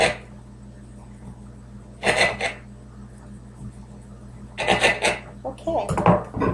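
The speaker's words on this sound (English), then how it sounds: "I take the remainder of the Antojito and slice it into bite-sized pieces" A knife slices an antojito into bite-sized pieces on a board, giving a few short, crisp cutting bursts at spaced intervals over a quiet, low room hum.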